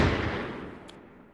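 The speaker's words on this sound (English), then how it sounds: "A few moments later, she heard a gunshot." Gunshot sound effect, a single loud boom already underway at the start that decays over about a second into a fading rumble.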